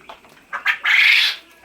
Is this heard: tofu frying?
no